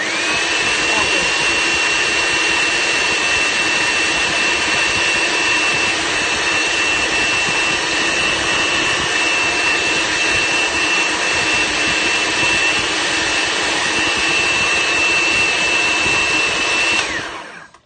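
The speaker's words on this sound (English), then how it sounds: "I'm going to process this a little bit" Food processor whirring continuously on a carob chocolate almond butter bar mixture, a loud steady high motor whine held for many seconds before cutting off at the end.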